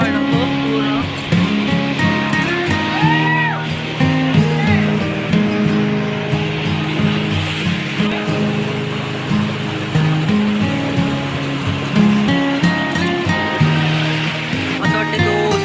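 At Malshej Ghat, a waterfall sends a loud, continuous rush of falling water across the whole scene while people talk over it nearby.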